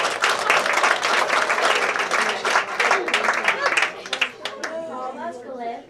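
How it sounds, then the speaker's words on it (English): An audience at a 2018 women's leadership awards evening claps briskly for an honoree, loud at first and thinning out, with a voice starting to speak over the last couple of seconds. "So give her a round of applause."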